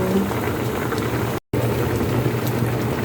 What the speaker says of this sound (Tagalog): kumukulo na ang ating paksiw